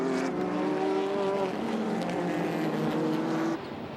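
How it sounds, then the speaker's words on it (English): Racing cars in a 1994 JGTC race, including the Advan-liveried Yokohama-shod Porsche and Krosnoff's Toyota, roar loudly at steady high revs with a sustained engine drone that shifts pitch and drops slightly near the end. "the Advan liveried Porsche of Takahashi Kunimitsu and Kei Tsuchiya battled with Krosnoff's Toyota"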